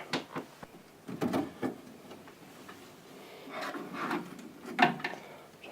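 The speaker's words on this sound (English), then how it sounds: "let's have the back off and have a quick look inside at the chassis" Back cover being taken off a Tonfunk valve radio set, quiet scattered clicks, taps and scraping handling noises of the panel coming free, faint and close, with short irregular bursts.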